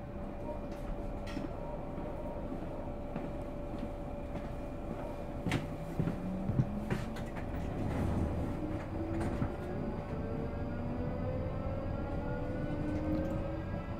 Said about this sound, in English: It's a beautiful day to be out on the trains today.